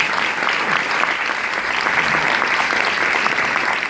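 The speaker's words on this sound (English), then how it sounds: "you got to give yourselves a round of applause for that" Middle school graduates at a commencement ceremony applaud themselves, a loud, dense, continuous burst of many hands clapping that fills the hall without letup.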